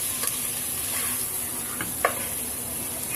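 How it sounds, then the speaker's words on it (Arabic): Chicken pieces fry with onions and spices in a pot, a soft steady sizzle with a couple of light clinks and scrapes as the mixture is stirred. "هنزل عليها تاني بالفراخ واديها تقليبه عشان الفراخ تشرب من طعم البصل والتوابل اللي معايا"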